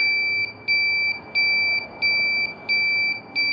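A motorcycle turn-signal buzzer sounds in a steady on-off rhythm, shrill pulses repeating about every two-thirds of a second over low background hum.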